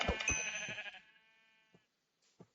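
Two or three sheep bleating in Hungry World, a Web3 Minecraft-style video game: one long wavering bleat up front, followed by a couple of short, quieter bleats after a pause.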